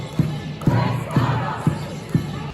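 A crowd shouting outside the Old Bailey courthouse in London, a loud rhythmic chant with a regular thumping beat repeating roughly every half second.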